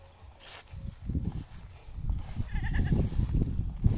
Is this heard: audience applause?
no